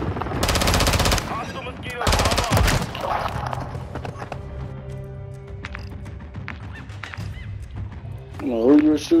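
Bursts of rapid automatic gunfire in the video game Modern Warfare 3, two loud sustained volleys up front followed by scattered shots, with players talking and shouting over the action.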